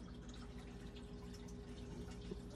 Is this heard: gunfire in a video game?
no